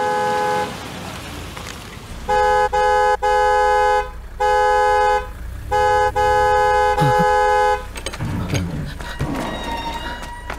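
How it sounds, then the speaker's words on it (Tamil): A car horn blares in long, insistent honks, several sustained blasts separated by brief gaps, loud and close, followed by muffled voices and movement. "இவ்வளவு நேரம் ஹார்ன் அடிக்கிறது என்ன பண்ணிட்டு இருக்கீங்க?"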